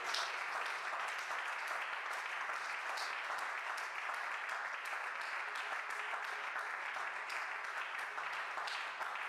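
A church congregation applauds in steady, dense clapping that fills the room without pause, with faint voices mixed in under the applause.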